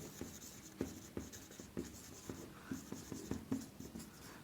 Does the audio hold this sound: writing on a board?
yes